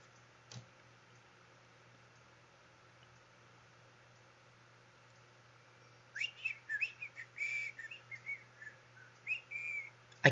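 A person whistles a short, halting series of notes after several seconds of near silence, starting and stopping unevenly, close by.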